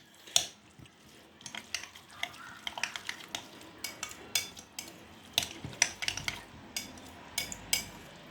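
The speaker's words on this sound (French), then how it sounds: "Et là, on mélange tout simplement." Utensils clink and scrape against a bowl while stirring skewer marinade ingredients for brochettes, a steady run of quick, close taps and scrapes with no talking.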